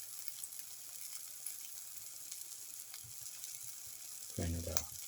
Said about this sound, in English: Now let the omelette fry